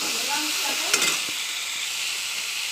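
Oil sizzles steadily in a kadai (wok) as vegetables fry. Around one second there is a brief clatter and a flare of the sizzle, and no one speaks.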